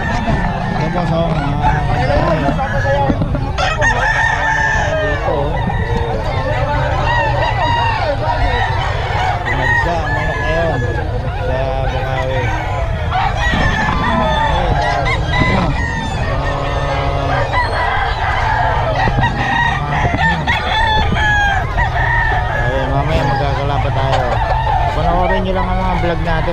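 Roosters crow repeatedly at a busy outdoor gamefowl market, their calls rising over a dense, constant crowd din and nearby voices.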